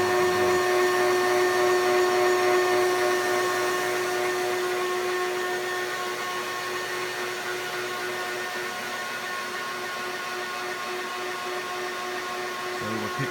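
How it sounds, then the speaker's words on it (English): A vacuum runs steadily through an exhaust setup used to test a VESDA smoke detector, a loud continuous motor whine with tonal hum, slightly louder at the start then holding level to the end. "we're going to get the vacuum started. Obviously won't be able to hear me with the vacuum running"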